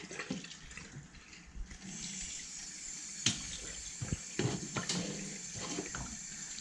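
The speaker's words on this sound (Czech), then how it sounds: "Vypustím tu slanou vodu a udělám to vlastně několikrát." Salty rinse water draining and splashing in a kitchen sink after soaking homemade ham sausages, a steady close running-water wash with brief louder gushes and clatter.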